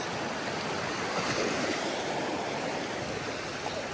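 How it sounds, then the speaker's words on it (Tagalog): Sea waves wash steadily onto a shore in a continuous broadband roar of surf, with some wind on the microphone and no voices. "Maganda ang dagat."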